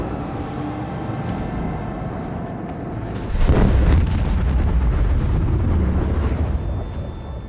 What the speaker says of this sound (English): Reload the cannons.